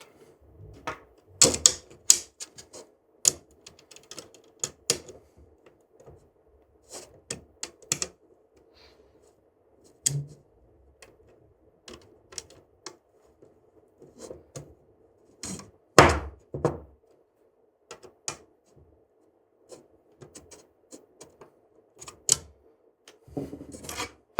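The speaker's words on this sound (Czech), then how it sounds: "Nyní si můžeme utáhnout." Screws being tightened on the heatbed of a Prusa MK4S 3D printer during its CoreOne conversion: scattered sharp clicks and short scraping rasps, close and fairly quiet, with gaps of silence between them and no talking.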